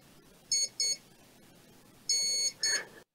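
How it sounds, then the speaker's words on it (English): Four sharp electronic beeps in two pairs from an RC model's electronic speed controller arming, high-pitched and tonal, with a lower final tone, against a quiet background. "possibly you can hear that the speed controller is just beeping"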